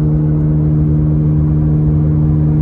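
A car with its muffler removed drones loudly and steadily from close range, a deep, rough, unchanging engine hum.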